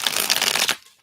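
Tarot cards being shuffled in steady, close riffling bursts for most of the moment, then stopping abruptly into near silence.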